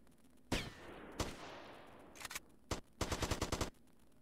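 AK rifle fire in GTA Vice City: a few single loud shots with trailing echo, then a rapid automatic burst of about seven shots near the end, fairly faint overall with no talking.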